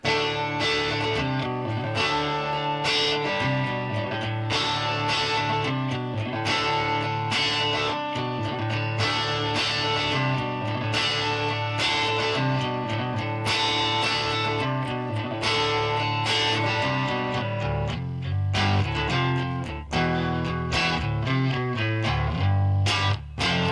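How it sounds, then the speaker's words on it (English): Distorted electric guitar on the neck pickup, played as a loud, continuous chordal riff with sustained notes and steady rhythmic accents throughout, no voice over it. "Sounds like a guitar, right?"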